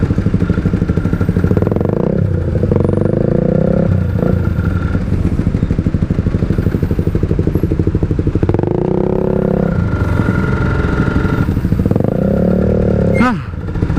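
A racing motorcycle engine revs hard throughout, loud and close, with repeated throttle blips rising and falling plus clattering mechanical noise and a brief thump near the end.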